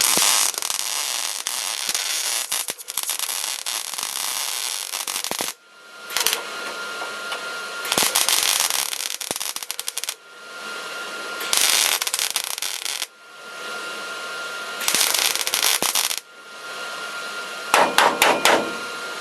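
Rusty metal is welded in bursts, each a loud, harsh crackling sizzle lasting a couple of seconds and separated by short silences, ending with a few rapid sputtering pops.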